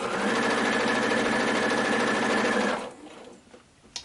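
Home sewing machine with a standard foot stitching a zigzag quilting pattern on a pinned quilt, running as a steady close whir for almost three seconds, then stopping and leaving quiet handling noises.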